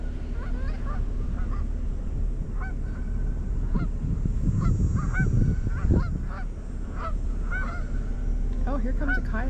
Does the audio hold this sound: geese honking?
yes